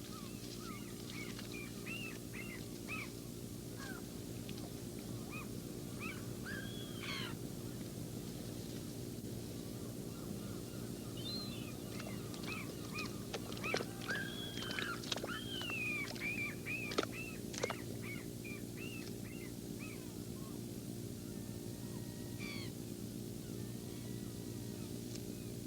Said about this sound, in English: the depredations of the gulls, which tear at the fish stranded conveniently in the nets